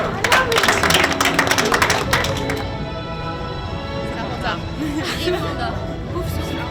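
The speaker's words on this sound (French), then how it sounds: "je pense qu'on peut l'applaudir" An audience bursts into applause: a dense patter of many hands clapping, loudest at the start and tapering within a couple of seconds into a steady murmur of crowd chatter.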